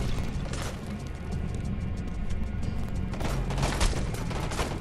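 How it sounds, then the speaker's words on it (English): Enemy gunfire in the shooter game Homefront: The Revolution, a steady dense roar of rapid shots and blasts rolling on without pause, loud and continuous. "No, I know they're all shooting at me."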